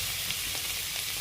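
Capsicum fries in a pan with a steady, bright, close sizzle that holds evenly throughout and has no voices over it.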